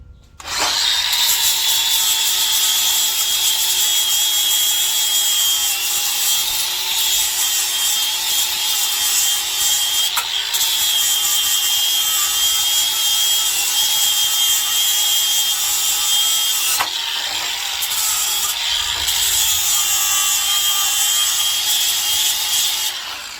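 A power grinder whines steadily and loudly while cleaning weld spatter off off-road fabrication steelwork, running nearly nonstop with slight pitch dips as it bears on the metal.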